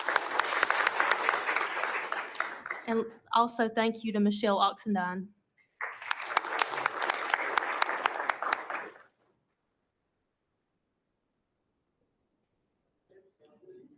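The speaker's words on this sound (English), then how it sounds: "let's give her a round of applause" Applause from the audience at a school board of education meeting, a steady wash of clapping that breaks off, returns briefly after a short speech interjection, then fades into silence.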